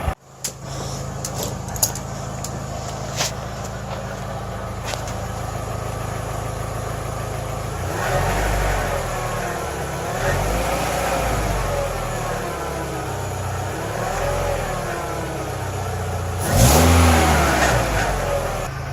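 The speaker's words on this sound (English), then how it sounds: "Let's rev it and see if I can get that rattling noise" A Volkswagen Golf engine with a rattling fault idles with some clicking, then revs up and down several times, growing louder near the end with a rough, rattly edge.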